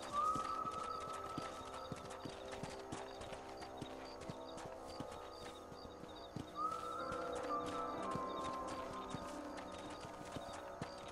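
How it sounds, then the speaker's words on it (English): Steady clip-clop of horse hooves at a relaxed pace, close by, with a brief whinny and faint background music, from the video game Red Dead Redemption. "Just chilling on my horse with Bonnie"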